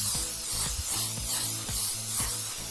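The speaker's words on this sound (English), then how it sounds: "The cooking spray." A continuous hiss of cooking spray, with faint mechanical clicking and rattling underneath, runs close and fairly loud throughout.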